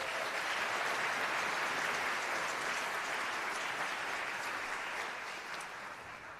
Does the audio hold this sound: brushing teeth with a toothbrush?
no